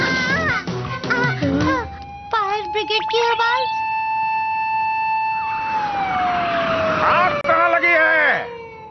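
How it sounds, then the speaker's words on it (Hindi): Cartoon fire brigade engine siren wailing in long steady rising and falling tones, loud and close, mixed with bursts of animated voices and sound effects. "फायर ब्रिगेड की आवाज।"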